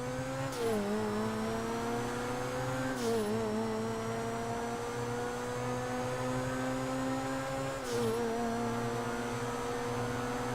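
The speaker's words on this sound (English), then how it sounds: "Next up, we have the Zentorno versus the Turismo R." Zentorno and Turismo R supercars racing in GTA V, a loud sustained engine drone with rising revs, dipping briefly at three gear shifts before climbing again, no talking.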